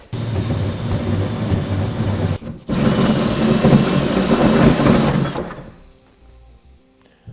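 A loud, continuous grinding roar of a saw cutting a 4-inch hole in metal for a gooseneck hitch on a 2011 Chevrolet Silverado, with one brief pause, then the cutting stops and a faint hum remains.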